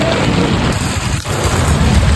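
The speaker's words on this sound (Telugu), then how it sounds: "చూసారు కదా, ఫుల్ వర్షం వస్తుంది." Heavy monsoon rain pouring onto a road and a damaged shed: a dense, continuous roar of falling water, loud and unbroken, with no voices.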